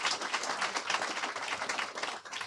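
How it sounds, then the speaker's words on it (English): An audience claps in a steady round of applause at a live teach-in event, a dense patter of many hands that holds at an even level for the whole stretch, with no talk over it. "yes, round of applause for that"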